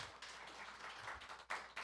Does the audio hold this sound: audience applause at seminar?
yes